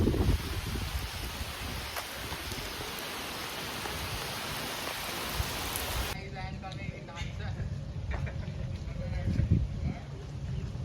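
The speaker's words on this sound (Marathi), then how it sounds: "इथे पाऊस आलाय जोराचा." Heavy rain falling in a village, a steady close wash of downpour that carries on throughout, with a voice talking over it.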